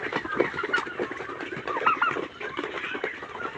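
A crowd of turkeys, about four months old, gobbling and clucking at once on a farm, a dense, continuous chorus of overlapping calls close by with no talking.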